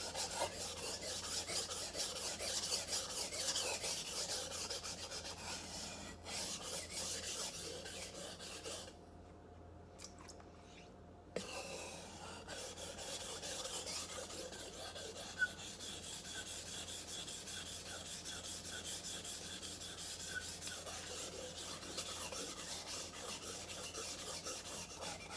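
A dull steel knife is drawn over a sharpening stone in long, continuous rasping strokes, close and fairly quiet, with a brief pause partway through before the grinding resumes.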